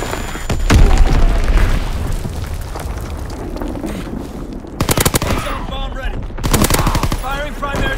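Strafing-run gunfire and explosions in a multiplayer war game hardpoint battle: heavy booming blasts and rolling rumble, then sharp loud bursts of rapid automatic fire, with game announcer voice lines heard briefly.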